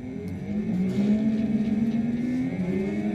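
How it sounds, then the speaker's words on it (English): A DC brushless electric traction motor from a plug-in hybrid retrofit kit spins steadily on a car, giving a close, sustained whirring hum with a rising and falling pitch. "I'm going to have the motor turned on now so you can see how it rotates."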